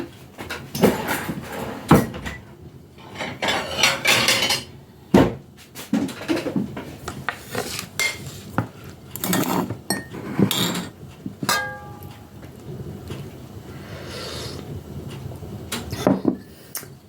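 Plates and dishes in a home kitchen clink and knock against each other as one is taken out for breakfast. A cupboard or door moves too, in a busy run of close, separate sounds with short pauses between them.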